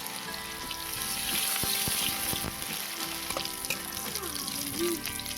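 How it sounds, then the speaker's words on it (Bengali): Chopped onion fries in hot oil in a kadai, giving a continuous dense sizzle that stays fairly loud and even, with occasional faint scrapes of stirring. "দিয়ে তেল দিয়ে পেঁয়াজ কুচিটা দিয়ে দিলাম"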